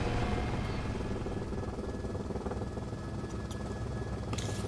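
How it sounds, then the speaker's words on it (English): A helicopter in the video game Resident Evil: Revelations 2 drones steadily at low volume against a dense background wash, with a few brief clicks toward the end. "That's a helicopter."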